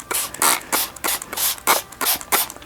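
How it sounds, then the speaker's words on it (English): A hand spray bottle mists water onto folded paper in quick repeated bursts, about eight short hissing sprays in a steady rhythm, close and fairly loud with nothing else around them. "I'm gonna keep spraying to make sure it gets wet."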